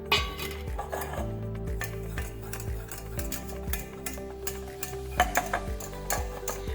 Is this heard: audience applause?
no